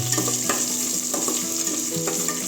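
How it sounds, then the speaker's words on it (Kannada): Ginger, green chillies, curry leaves and cashews frying in a pongal tempering, a close, steady sizzle with light stirring scrapes and occasional pops, no talk. "ಫ್ರೈ ಆಗಲಿ."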